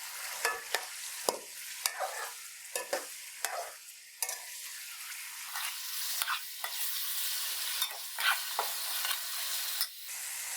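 Green chicken karahi fries in a pan with a continuous soft sizzle, broken by repeated scraping strokes of a spoon stirring the pieces.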